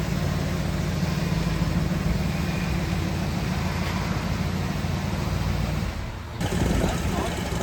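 A Dodge Challenger T/A 340 engine runs steadily at close range, a loud continuous rumble that dips briefly near the end, then picks up again.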